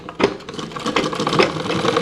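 A sewing machine stitches a gathering pant, a close, busy mechanical whir with rapid needle ticking running continuously for a couple of seconds.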